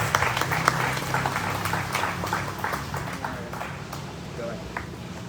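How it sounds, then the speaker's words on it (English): Audience applause after a musical performance at a celebration of India's 75 years of independence, steady dense clapping under a host's amplified voice throughout. "May we again clap for these people?"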